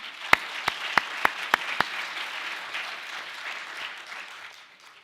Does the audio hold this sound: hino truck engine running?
no